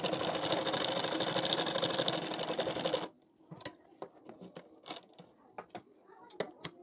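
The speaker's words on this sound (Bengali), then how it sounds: "এই দাগ বরাবর করে সেলাইটি দিয়ে নেব।" Electric sewing machine runs a continuous stitch along a marked line on katori blouse fabric for about three seconds, steady and close, then stops, leaving scattered light clicks and handling noises.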